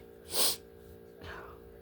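Two quick nasal sniffs from a woman with the sniffles, the first sharper and louder, the second softer about a second later, close to the microphone against a quiet background.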